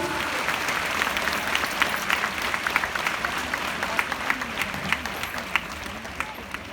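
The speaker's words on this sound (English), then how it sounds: "Please give them a huge round of applause for these smart and brave girls" Applause from a school annual day audience for a group of girls finishing a marching display, steady crowd clapping throughout with low murmuring voices underneath.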